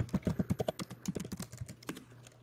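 Someone types a command on a computer keyboard in a rapid, close run of crisp key clicks that slows and thins toward the end.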